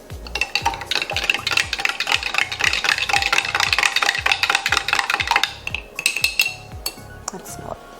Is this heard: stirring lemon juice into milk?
yes